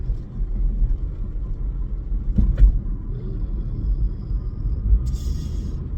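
Car traffic rumbles steadily on a nearby road, with a minivan and a pickup truck jostling for the same lane; a brief louder pass swells midway, then the low road noise continues without talk.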